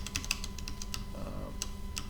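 Rapid clicks from a computer keyboard in an irregular burst of keystrokes, close and fairly quiet over steady background hum, with a brief creak in the middle.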